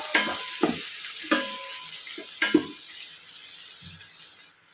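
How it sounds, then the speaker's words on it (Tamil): Onions and green chillies sautéing in a pan for mutton biryani, a steady sizzle broken by several scraping stirs and a few soft clinks, with no voices. "வெங்காயமும் பச்சை மிளகாவும் போட்டுக்கலாம். இதை பொன்னிறமாக வதக்கலாம்."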